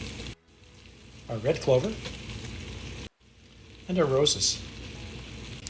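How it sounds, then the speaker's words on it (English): A pot of clover honey syrup with alum, white and red clover and roses at a slow boil gives a steady bubbling, sizzling hiss under a person speaking. "It's been boiling for 10 minutes."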